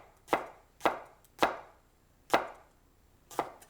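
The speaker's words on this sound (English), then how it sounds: "you have to pick your knife up off the cutting board a bit to really get in there and get the slices" A knife slicing hot chilies on a cutting board, five crisp, separate chops spaced unevenly, close and clear with no talking.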